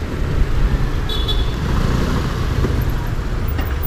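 Steady roadway rumble with a brief car horn toot partway through, heard amid passing traffic as food delivery motorcycle couriers block a road in Turkey on 10 November for a moment of silence for Atatürk.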